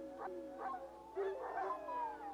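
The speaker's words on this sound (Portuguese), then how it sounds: "O fazendeiro precisa tocar a gravação de uivos de lobos rivais todos os dias" Recorded howls of a rival wolf pack played back on a farm to deter wolves from calves: several long, wavering howls rise and fall over one another above a steady background hum.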